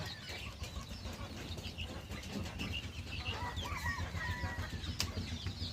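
Native chicken chicks cheep in a cluster of thin, high peeps, closer and clearer toward the end, over a steady low rumble of background noise.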